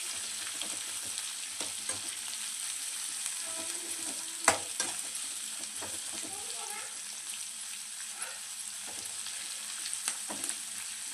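Mustard seeds, neem leaves and onion fry in a pan, making a soft, continuous sizzle with scattered crackles, light stirring scrapes and one sharp clink partway through.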